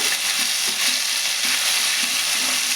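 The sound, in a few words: onion pieces frying in oil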